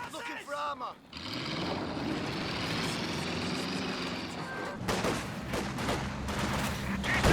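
Gunfire in the Company of Heroes 2 strategy game fires at a Universal Carrier: rapid volleys crackle over a vehicle engine's rumble while a commentator talks throughout.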